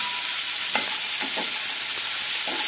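Cashews sizzle in a hot pan while cooking Shahi paneer, a steady loud frying hiss broken by a few short scraping stirs, with no talking.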